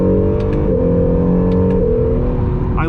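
A 2020 Acura NSX supercar revs hard from inside the cabin, a loud, steady engine drone whose pitch climbs and then drops sharply at each gearshift, twice in quick succession.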